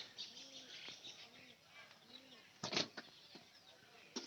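An old, heavyset pigeon coos in a repeated low rolling call, with a few sharp wing flaps and rustles partway through, close and fairly quiet.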